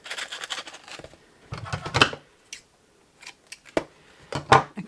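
Scissors snipping through material while tying a treat bag, several crisp close cuts in short irregular bursts separated by quiet pauses.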